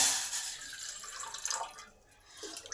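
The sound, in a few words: water poured into a tea pan for milk tea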